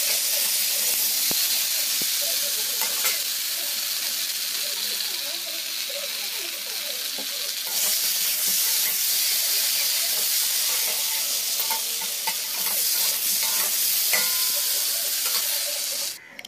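Aloo dum, a potato curry, cooking in a pan at home: a loud, constant hiss of steam and sizzle that runs unbroken for the whole stretch, with faint stirring knocks underneath.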